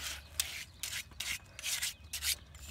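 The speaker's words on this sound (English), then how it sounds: "So next thing you do is you take your finishing trowel" Finishing trowel packing down wet concrete in a chain link fence post footer, a series of short close scraping strokes with brief pauses between them, fairly quiet.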